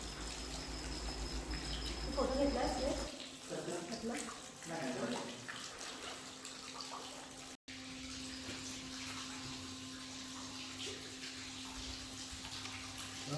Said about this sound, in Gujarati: ગૌમુખી ગંગા જ્યાં કુદરતી રીતે ગાયના ગળામાંથી પાણી આખું વર્ષ નીકળ્યા રાખે છે